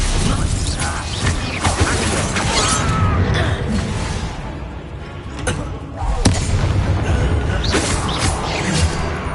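Incendio fire spell cast in the Hogwarts Legacy video game, heard as loud bursts and crackling blasts within dense game combat noise, with sharp impacts around the middle and a steady roar throughout.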